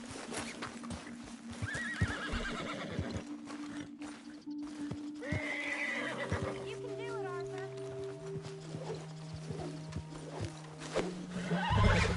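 In Red Dead Redemption 2, a horse neighs and whinnies several times while hooves clip-clop steadily nearby, under a low ongoing game music tone, with someone speaking briefly.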